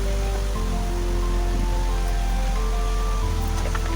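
Grated papaya is stir-fried with slit green chillies and spices in a hot pan, producing a loud, continuous close-up sizzle with a rain-like hiss and occasional stirring clatter.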